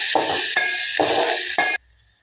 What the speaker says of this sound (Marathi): आता कांदा छान आपल्याला लालसर होईपर्यंत भाजून घ्यायचा आहे